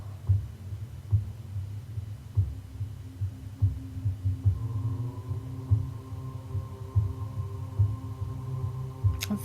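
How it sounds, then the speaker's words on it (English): A steady ritual drum beats slowly like a heartbeat, deep regular throbs under a low sustained hum, with a droning tone joining midway; no talking. "this drum beat is the sound of her heart"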